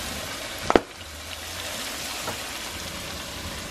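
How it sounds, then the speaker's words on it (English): Powdered garlic sautéing in a pan for a coconut red snapper dish gives a steady, soft sizzling hiss, with one brief sharp clatter near the start. "we're just going to saute this with powdered garlic"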